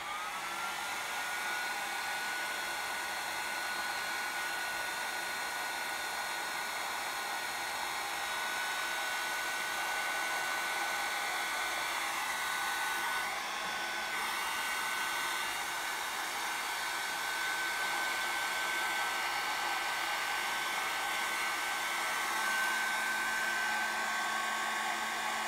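Hair dryer blowing alcohol ink across an artwork, a steady loud whirring hiss held continuously for the whole stretch with only slight changes in pitch.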